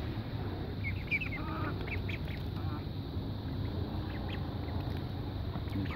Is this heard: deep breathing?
no